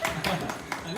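Several sharp hand claps, about four in quick succession, ring out in a kitchen setting over a steady background of talk.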